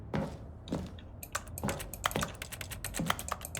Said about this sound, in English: Wait, it still has the keyboard sounds.